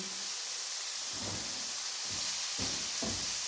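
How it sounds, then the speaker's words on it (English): Chopped leeks sautéing in a pan, a continuous hissing sizzle with a few soft stirring scrapes that come and go. "let that saute for a minute"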